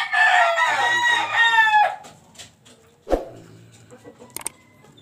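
A red tubain (tubaon) gamecock crows once, loud and close, in a long ringing call. Softer clucks and a sharp knock follow.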